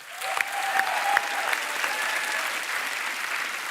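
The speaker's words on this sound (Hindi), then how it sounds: "लेकिन एक बार तो जोरदार तालियां यार।" On a Bollywood film set, a gathered crowd applauds in a moderate, continuous patter, with faint voices and a few whistle-like tones rising over the clapping.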